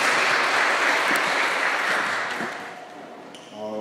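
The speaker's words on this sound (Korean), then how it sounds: "우리 한번 박수로 우리 찬양팀." A church congregation claps steadily in sustained applause for the worship team that fades out, with a few faint musical notes at the end.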